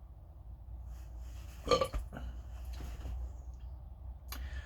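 A single low burp stands out midway against a soft background rumble in a cave, followed by faint scraping and shuffling noises.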